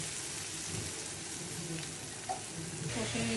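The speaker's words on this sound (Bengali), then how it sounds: "কালার মরিচ দিচ্ছি, গরম মশলা দিয়ে দিচ্ছি, এভাবে কষে নিচ্ছি" Chilli powder and garam masala being sautéed in a pan for a Bengali chhanar kofta curry, giving a steady close-up sizzle with soft scraping and stirring noises near the end.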